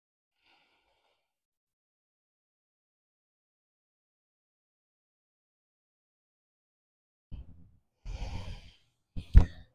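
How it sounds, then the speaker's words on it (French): Slow, deep breaths during an Ashtanga yoga practice, with long silences between them and a few soft airy exhales and sighs clustered near the end, close and quiet. "Je rallonge ma respiration."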